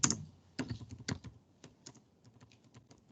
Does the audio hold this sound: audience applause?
no